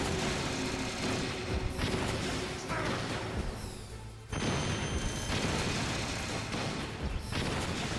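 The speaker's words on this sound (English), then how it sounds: "As soon as the explosion disappears, fire the next shot." Weapon shots and explosions from the Metal Gear Solid video game, a dense, loud, continuous barrage of blasts and gunfire with a sharp surge of impact midway.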